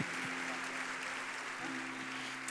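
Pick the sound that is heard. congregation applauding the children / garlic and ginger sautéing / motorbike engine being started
congregation applauding the children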